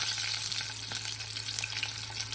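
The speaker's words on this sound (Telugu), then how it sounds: "కడాయి తీసుకొని దీనిలో రెండు టేబుల్ స్పూన్ ఆయిల్ వేసుకొని వేయడం దీనిలోనే మనం రెండు పచ్చిమిరపకాయలు కొంచెం కొంచెం ఆవాలు" Green chillies and mustard seeds fry in oil in a kadai, giving a steady close sizzle with faint crackles and no talk.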